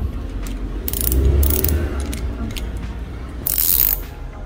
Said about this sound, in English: go ahead and tighten this with a 17mm wrench